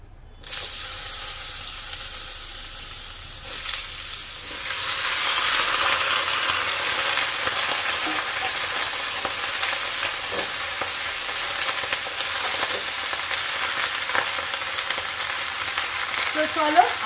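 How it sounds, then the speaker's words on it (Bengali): Snake gourd frying in hot oil in a kadai: a continuous loud sizzle and hiss with occasional stirring scrapes, close by and steady. "তো চলো আগে চিচিঙ্গেটা খুব ভালো করে লাল করে ভাজা করে নিই।"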